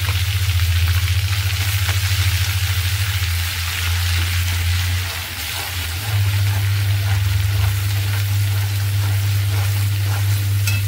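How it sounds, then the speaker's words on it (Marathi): Masala paste of garlic masala and homemade chilli powder sizzles steadily as it is sautéed in a pan for chole, a continuous close frying hiss over a low hum, with a brief voice speaking. "आमच्या नुसता मसाला परतायला टाकला तरी इतका छान परतून झालेला आहे"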